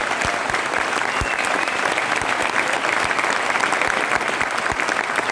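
A seminar audience in Noida claps steadily for several seconds, dense and continuous applause filling the room with no talking over it.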